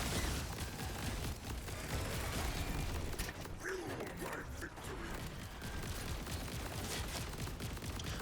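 An incendiary SMG in Borderlands 4 fires in a dense, unbroken stream of rapid shots and impacts that holds at steady loudness from start to finish, with other game effects mixed in.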